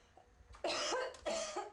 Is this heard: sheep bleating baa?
no